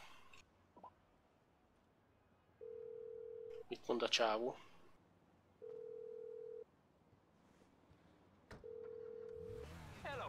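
Repeated single-tone phone ringback pulses, each about a second long with pauses between, from a phone call in GTA V, with someone speaking briefly between the rings.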